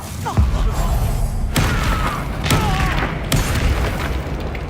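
A Bombarda explosion spell from Hogwarts Legacy lands as a deep boom amid busy combat noise, followed by a couple more sharp impacts over a steady low rumble.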